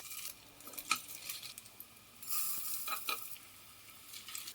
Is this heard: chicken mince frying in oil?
yes